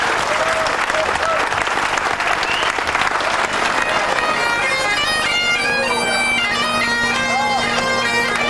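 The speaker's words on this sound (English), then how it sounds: "Big round of applause, please." A room full of people gives a hearty, sustained round of applause at a rugby cup final gathering, dense clapping that continues as music begins to rise underneath.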